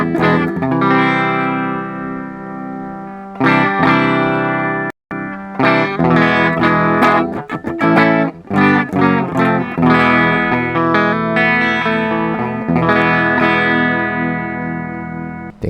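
Electric guitar played through a Flamma FS06 preamp on its fifth amp model, a distorted, effects-laden tone strummed in chords and picked phrases, heard alone for about fifteen seconds with one brief pause.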